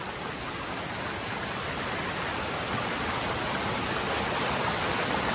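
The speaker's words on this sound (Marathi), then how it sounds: "आणि बघा पाणीच पाणी, खूप सुंदर असं पाणी आहे" Rushing water from a waterfall forms a dense, steady roar of broadband noise, loud and unbroken throughout, with no voices.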